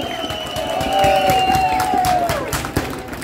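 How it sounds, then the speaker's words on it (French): A crowd at a Kanak demonstration claps and cheers loudly, dense applause with whistles and shouts rising and holding, a voice briefly calling out over it. "On demande d'applaudir M. Wanabo."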